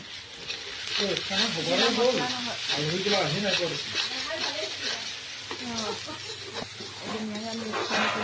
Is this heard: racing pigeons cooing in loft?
no